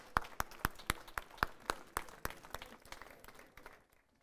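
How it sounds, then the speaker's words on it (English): Audience members at a professional kitchen trade show clap for a college team, with distinct, evenly spaced claps from nearby hands that ring out strongly and then thin and fade over a few seconds. "put your hands together for the wonderful team from UCB College."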